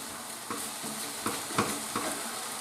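Bolognese meat sauce with black pepper cooks in a pan under a constant sizzle, with four or five soft stirring scrapes at a slow, even pace.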